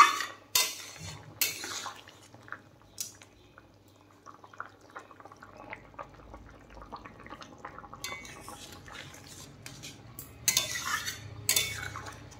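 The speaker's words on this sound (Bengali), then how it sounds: "ডিমগুলো দিয়ে দেওয়ার পরে আরেকটু নেড়ে দিচ্ছি" Fish roe and potato curry is stirred in a pan, giving soft intermittent scrapes and clinks of a spoon over a faint bubbling simmer, fairly quiet with louder scraping bursts near the start and end.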